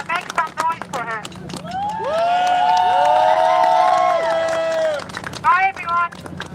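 A crowd at a rally in Philadelphia marking the anniversary of the Ukrainian airliner shootdown cheers and claps loudly. Sustained whoops and shouts swell for a few seconds between bits of nearby talk.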